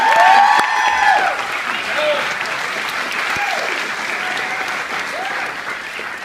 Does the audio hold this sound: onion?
no